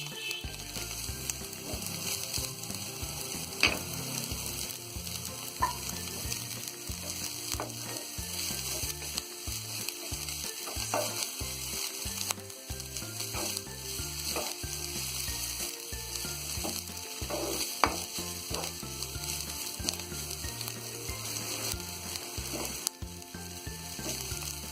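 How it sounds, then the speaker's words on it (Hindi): Cabbage and spring onions stir-fried on medium heat for Chinese bhel, a steady, continuous sizzle with scattered scraping and tossing knocks of a spatula throughout, close and alone with no voices. "अब डाल देंगे ये स्प्रिंग अनियन। गैस को हम यहाँ कर देंगे मद्दा, तो इसे भी हम हल्का सा फ्राई कर लेंगे।"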